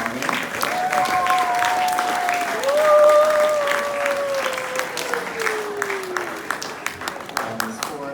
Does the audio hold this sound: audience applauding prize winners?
yes